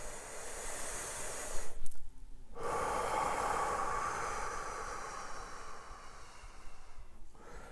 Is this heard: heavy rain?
no